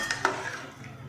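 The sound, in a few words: stirring vegetarian ol (elephant foot yam) kasundi in pan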